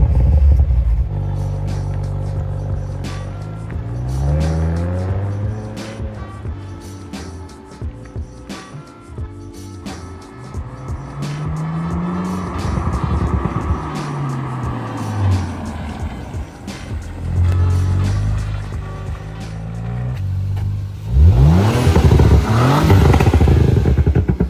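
An Audi B9 RS5 with an 034 Stage 1 tune and crackle map accelerates repeatedly. The engine note rises through several gear pulls, heard up close from inside the car, and ends with a loud surge of revs near the finish.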